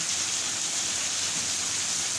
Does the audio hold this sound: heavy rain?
yes